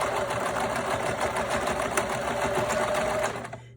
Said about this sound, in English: I'm just going to sew down this on the sides with a zigzag stitch